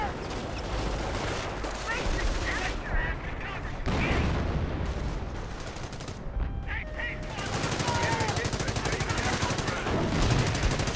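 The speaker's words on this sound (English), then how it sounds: "Three artillery guns." Artillery guns and other weapons firing in the Company of Heroes battle game, a dense continuous barrage of booms, bursts and rattling fire with no gaps.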